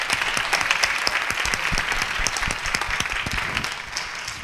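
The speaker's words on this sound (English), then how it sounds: "I would like to offer a round of applause for our panelists" An audience applauding panelists after a book talk, steady dense clapping from a room full of people, sustained and even throughout with no speech.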